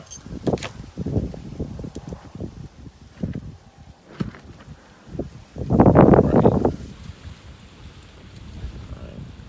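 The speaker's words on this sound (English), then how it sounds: "Hopefully the wind isn't messing up my sound too much." Gusty wind buffets an outdoor microphone in uneven low rumbling bursts, with one heavy blast midway, during an impromptu outdoor gun-cleaning session.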